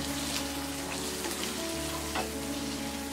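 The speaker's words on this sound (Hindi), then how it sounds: "हमने इसे मीडियम फ्लेम में फ्राई किया था।" Paneer bhurji frying in a pan on a medium flame, a steady close sizzle with faint stirring, no voices.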